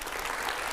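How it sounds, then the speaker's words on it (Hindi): Brief burst of audience applause, dense and steady for under a second. "इतनी साफ गोई से आपको कभी जवाब मिलता है तो फिर तालियां"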